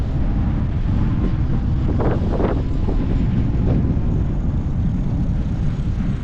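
Steady, heavy wind buffeting a microphone during a bicycle ride, a constant low roar with rumbling gusts throughout and no other clear sounds.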